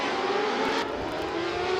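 Racing motorcycles at the Dover Carnival of Speed race start rev and accelerate together in a loud, dense engine roar, pitch climbing steadily, with no talking.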